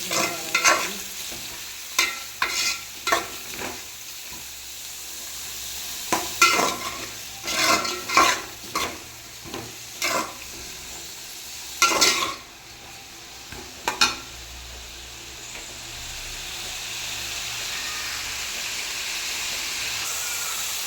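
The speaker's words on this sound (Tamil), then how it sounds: "அப்புறம் இஞ்சி போட்டு வதக்கி எடுத்துருக்கேன்" Onions and ginger sautéing in a pan, a low steady sizzle punctuated by a series of sharp scraping stirs and clanks of a spoon against the metal, close by.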